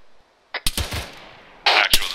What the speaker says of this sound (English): Gunfire from north behind us